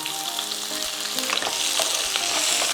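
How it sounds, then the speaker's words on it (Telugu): Curry leaves, red chillies and thinly sliced onions sizzle loudly in hot oil, a dense, steady crackle up close, with occasional stirring scrapes in the pan. "ఇందులో కట్ చేసి పెట్టుకున్న కరివేపాకు వేసేస్తున్నా."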